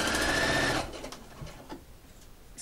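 Sewing machine stitching a godet insertion in fabric, a brief rapid whir of the needle that stops abruptly, followed by quiet fabric handling.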